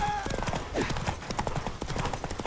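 Rapid, close clip-clop of a horse galloping in The Witcher 3 video game, hoofbeats loud and evenly paced across the short stretch with no talk over them.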